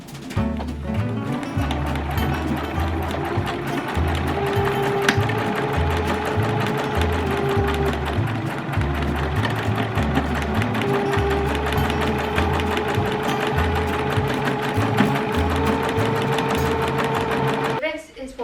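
Sewing machine stitching the side seams of pink flared trousers, a steady loud rapid mechanical rhythm running continuously under light background music.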